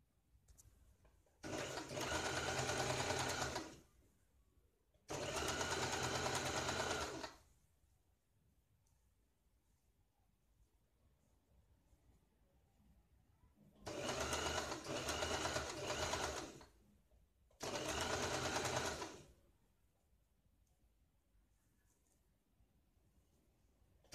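A sewing machine stitches the lining of a blouse in four separate runs of steady, fast whirring, each about two seconds long, with near-silent gaps between them.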